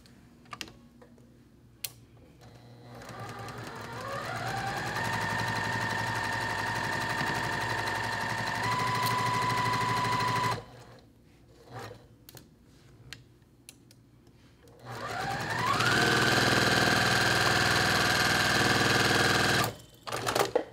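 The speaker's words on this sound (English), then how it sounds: "So I'm gonna sew down this way, and when I get to right here, I'm gonna sew a couple stitches, sew across." A sewing machine stitches quilt block pieces in chain piecing, running in two long steady bursts. Each burst whirs up in pitch, holds, then stops, with quiet handling sounds in the pauses between.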